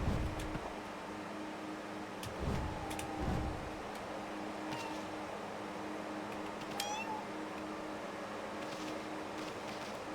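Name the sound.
cat meowing sounds in the video game Okami HD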